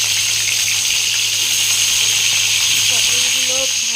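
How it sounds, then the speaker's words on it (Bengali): Pointed gourd (potol) fries lightly in hot oil in a pan, giving a loud, continuous hiss that holds steady throughout with no voices over it. "তেল গরম হলে পটলগুলো হালকা করে ভেজে নেব। বেশি ভাজা যাবে না, খুব হালকা করে পটলগুলো ভেজে নিতে হবে।"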